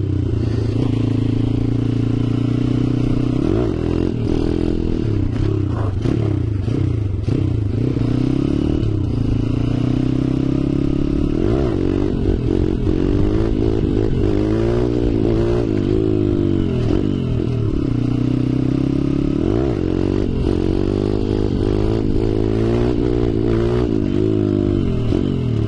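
A dirt bike engine revs hard and continuously while the rider pulls a wheelie without braking, its pitch climbing and dropping repeatedly in loud, close surges with faint clatter, and no speech.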